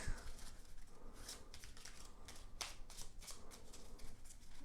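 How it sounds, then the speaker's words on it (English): Close, crisp riffling of a card deck being shuffled, repeated bursts of flicking cards with brief pauses between, no voices. "I'm just going to cut these in half and give these a shuffle"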